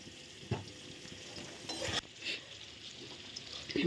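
Chicken is worked together with chicken masala, Kashmiri chilli powder and meat masala in a pan, giving soft wet squelching and scraping with a faint sizzle and a few sharp utensil knocks, quiet and close.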